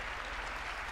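An audience applauds in a dense, steady patter of many hands clapping, heard only briefly and fairly quietly throughout.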